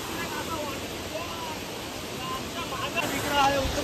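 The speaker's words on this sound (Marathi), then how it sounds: "तर लय बेकार पाणी वाहते भावनो, लय बेकार" Heavy water rushes steadily at Waghbil Waterfall near Badlapur, a constant broad roar with faint voices briefly audible beneath it.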